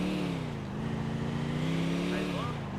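A UAZ 23602-050 tent truck in Grand Theft Auto IV revs and accelerates with a steady, droning engine note that climbs slightly in pitch, loud and close throughout.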